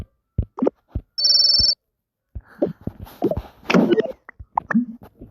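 Cartoon telephone ringing in the Toca Life World game: a single electronic ring burst of about half a second, clear and close, between short game plops and clicks with a brief voice-like sound afterward.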